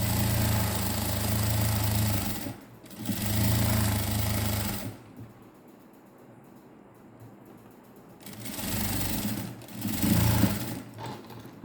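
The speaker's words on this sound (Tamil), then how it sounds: "நாம் இப்போ இன்னொரு தையல் போட்டுக்கலாம்." A sewing machine stitches a net blouse in loud, close bursts: two runs of a few seconds each, a quieter gap, then another steady run.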